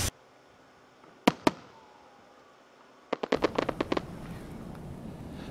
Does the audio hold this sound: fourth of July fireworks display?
yes